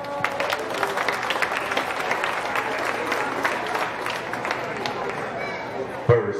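Steady, dense applause from the crowd at a county fair sheep show, honoring youth exhibitors of market lambs. It holds at an even level for several seconds before a single thump near the end.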